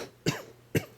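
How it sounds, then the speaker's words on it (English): Two short, sharp coughs about half a second apart, close to the mic and moderately loud, with near silence between them and no speech. "I'm coughing everywhere today."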